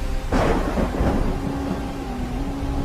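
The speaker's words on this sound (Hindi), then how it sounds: "एक बार जंगल में तेज बारिश और तूफान आया।" Heavy rain hissing steadily in a forest during a thunderstorm, with a rumble of thunder swelling early and fading beneath the downpour.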